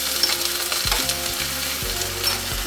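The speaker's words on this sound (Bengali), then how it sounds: "এবার এটা একটু কষিয়ে নেব" Spice paste with ginger and garlic sizzles and fries loudly in a pan for a bhetki fish recipe, with steady crackling and occasional scraping stirs against the pan, close and without talk.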